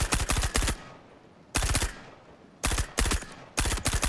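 Gunfire from the space game Star Citizen comes in four rapid bursts of shots, each loud and close and about half a second long, with quiet gaps between them and no talking.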